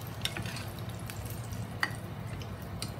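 Floured eggplant frying in hot oil, a second batch in the pan, gives a low steady sizzle with occasional light clicks and stirring taps, fairly quiet and close, with no talking.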